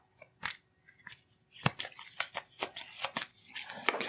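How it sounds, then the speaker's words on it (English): A deck of cards being shuffled during a tabletop deck-building game, with a quick run of crisp riffling snaps and flutters close by and no talking. "Give a good shuffle."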